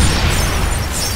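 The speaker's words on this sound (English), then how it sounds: "Bomb detonated" A bomb detonates in Halo: The Master Chief Collection during a custom game, a heavy rumbling blast that stays loud and sustained for the whole moment with no talk over it.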